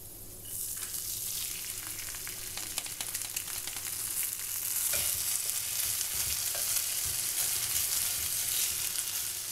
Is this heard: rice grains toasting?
yes